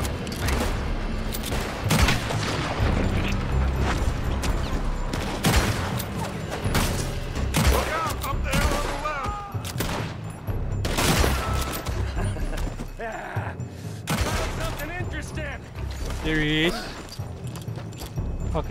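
Constant gunfire from a Red Dead Redemption 2 shootout, with dense overlapping rifle and pistol shots cracking throughout. Characters shout and talk over the shooting.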